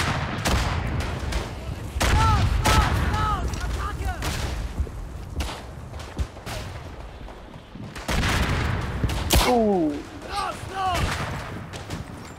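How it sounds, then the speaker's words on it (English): Artillery and rifle fire in the First World War shooter Verdun on the Champagne map, with distant booms, sharp shots and whistling shells scattered across a busy battlefield, and voices calling out now and then. "Was artillery, right?"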